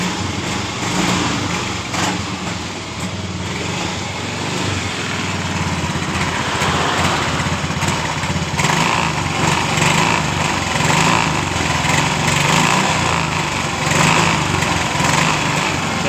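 A Yamaha Mio motorcycle that stutters and dies when ridden has its engine revved with the throttle, giving a loud, buzzy, continuous drone that swells and eases across the whole stretch.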